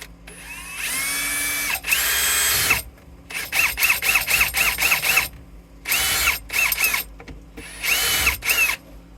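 Power drill boring holes during a Wilwood proportioning valve install on an NA Mazda Miata, heard in several separate bursts of loud, high whirring with short pauses and stuttering pulses between them, close up and with no talk.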